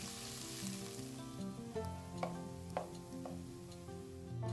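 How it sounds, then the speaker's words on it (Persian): Thinly sliced onion sautéing in oil in a pan, a soft, steady sizzle with a few light scraping stirs, fairly quiet and without voices. "1 عدد پیاز رو خلالی خرد کنید. با روغن تفت بدید تا سبک و طلایی بشه."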